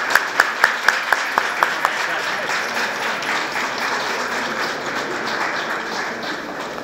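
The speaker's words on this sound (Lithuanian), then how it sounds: "Karališkoji pora Seimo rūmose sutinkama plojimais." Applause in Lithuania's parliament, the Seimas, greeting the Swedish king and queen: a few sharp distinct claps at first, then sustained steady clapping from many hands filling the hall.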